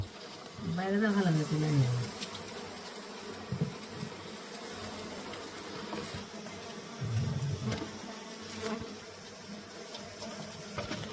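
Tiny honey bees swarm a hive tucked under a bed, their steady buzzing filling the whole stretch, with brief human voices rising over it near the start and again midway.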